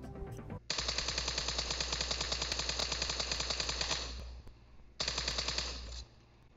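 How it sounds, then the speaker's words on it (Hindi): In PUBG Mobile a gun fires in long rapid automatic bursts, a loud steady stream of close shots that stops briefly for a quick reload before firing resumes, with a short pause and a mechanical sound at the start. "देखिए आप कितनी जल्दी ये रिलोड हो रही है"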